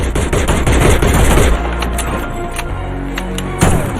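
Rapid bursts of sniper rifle fire from a battle-royale video game with Groza and AWM weapons, several sharp loud shots packed together in the first half, sparser cracks after, with one more loud hit near the end.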